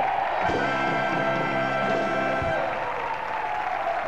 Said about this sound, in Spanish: la ovación para Penagos,